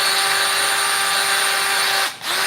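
A Makita power tool with a gearbox fault runs steadily with a loud, strained whine and buzzing drone, briefly dipping as the motor cuts out near the end before spinning back up.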